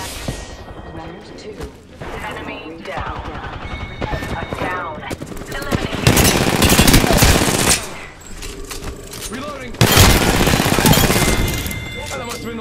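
Gunfire in a battle royale video game, with dense bursts of automatic weapon fire rattling nearly nonstop and loud, mixed with game effects and voice chatter throughout.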